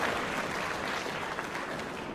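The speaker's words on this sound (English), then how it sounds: "So please give me a round of applause and thank them so much." Audience clapping at a 5th and 6th grade holiday school concert, a brief, even wash of many hands applauding together without pauses.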